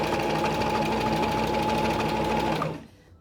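A sewing machine runs steadily, stitching close along the edge of a fabric face mask in a continuous loud whir for about two and a half seconds before stopping abruptly.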